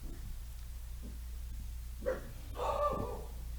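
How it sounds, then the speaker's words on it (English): Indoor dogs give a few brief barks and yips after a door is shut upstairs. The barks are fairly faint and come in two short bursts over a low steady hum. "Somebody upstairs shut a door, and so the dogs are going off."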